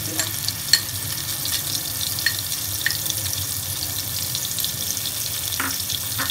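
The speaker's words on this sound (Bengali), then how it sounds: "ফোড়নে একটুখানি সাউন্ড হলে তারপরে আমি এক চামচ মতো পোস্ত বাটা দিয়ে দিলাম।" Poppy seed paste is added to hot oil tempered with green chilli and sizzles faintly in a steady hiss, with scattered small pops and crackles close by.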